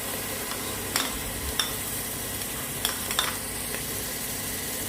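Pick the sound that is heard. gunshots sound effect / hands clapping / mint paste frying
mint paste frying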